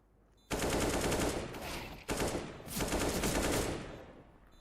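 An AK rifle fires in a Counter-Strike: Global Offensive pro match between Complexity and Sprout, with two loud, close automatic bursts and a brief gap between them.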